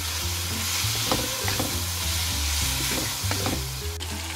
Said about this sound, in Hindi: दस मिनट हो गए हैं इसको कीमे को भूनते हुए